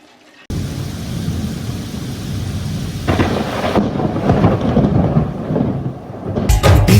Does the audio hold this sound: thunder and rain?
yes